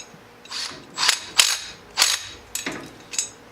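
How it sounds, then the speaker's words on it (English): A clutch weight being bolted back into the primary clutch of a Can-Am X3 side-by-side with a lock nut, six or so sharp, close clicking bursts from the hand tool with short pauses between them. "So bolt your clutch weight back in."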